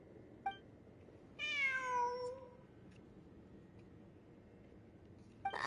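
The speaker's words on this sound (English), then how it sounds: "It really is a cat." A cat meows in the video game Genshin Impact, a short run of clear, wavering mewls near the start of the stretch against a quiet ambient backdrop, with faint clicks before and after.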